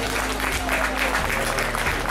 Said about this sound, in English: Thank you for the applause, guys.